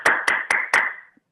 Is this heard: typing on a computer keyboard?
no